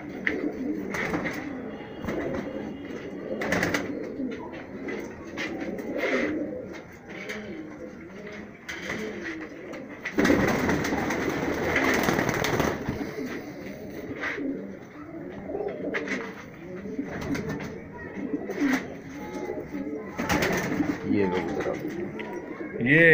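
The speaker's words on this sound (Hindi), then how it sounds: "गोल्डन कबूतर बहुत गजब का कबूतर है" Golden high-flyer pigeons in Rajasthan coo repeatedly, soft and close, alongside wing flutters and people talking over them throughout.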